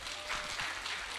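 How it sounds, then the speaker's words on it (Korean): Brief burst of clapping from a church retreat audience, a short, fairly dense patter of hands that runs for about a second. "박수 한번 주세요."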